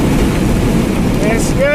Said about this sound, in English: In May 2016, one of the biggest tornadoes in the history of Kansas was spotted.